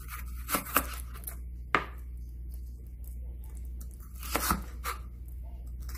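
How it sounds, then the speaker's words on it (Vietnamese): A knife finely chops and dices ingredients for lobster rolls on a cutting board: a handful of sharp, irregularly spaced chops close by over a steady low kitchen hum. "mình cắt, mình băm thành hạt lựu nhỏ nhỏ các bạn"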